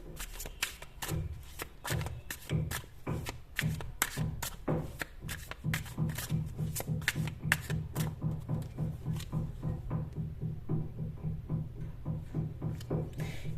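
Tarot cards shuffled by hand in a steady run of quick riffling taps, the rhythm tightening into an even, repeated patter toward the end, close and fairly quiet with no talking.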